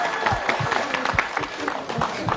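A studio audience at a televised matchmaking show claps, a short burst of dense, fairly close applause, with a voice briefly audible over it.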